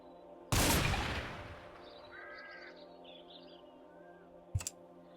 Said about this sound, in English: I think the sound of the gunshots have terrified the animals